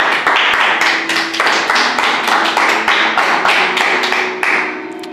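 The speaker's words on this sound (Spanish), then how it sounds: "Eso, aplauso al Señor. Aplauso fuerte." Loud, close applause from a church congregation at a Friday service, rapid steady clapping that carries on for several seconds before thinning slightly at the end.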